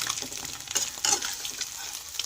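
Fish frying in oil gives a short burst of bright, crackling sizzle, steady and fairly close, with a couple of slight stirring scrapes.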